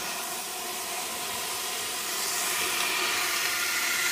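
Steak sizzles in a hot pan, a steady broadband hiss that swells slightly louder toward the end, close and continuous with no voices.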